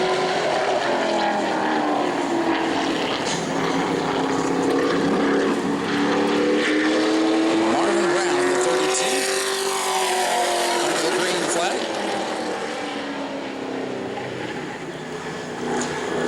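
Race car engine on a Sportsman qualifying lap at New Smyrna, a steady loud roar whose pitch climbs and sweeps as the car passes, with an announcer talking over it throughout.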